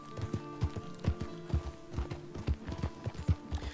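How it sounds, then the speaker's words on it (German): A horse gallops in Red Dead Redemption 2, its hooves thudding in a quick, steady three-beat rhythm, fairly faint and close, continuing evenly with a soft background hum. "wir reiten da, John."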